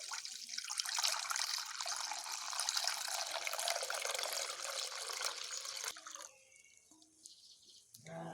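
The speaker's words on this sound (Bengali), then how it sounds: "আমি এই দুধটিকে দিয়ে দিচ্ছি কড়াতে।" Milk is poured steadily into a wok in a kitchen while making Bengali sandesh, a continuous liquid rush that runs for several seconds, then stops abruptly, leaving faint trickles and drips.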